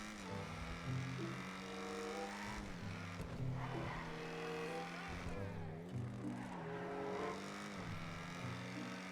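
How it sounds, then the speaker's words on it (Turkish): A car from GTA 5 Online drives outdoors at night, its engine droning steadily and rising and falling in pitch as it revs and shifts, with a faint squeal of tires. "Arabayı şimdi dışarı çıkartıp test edeceğiz."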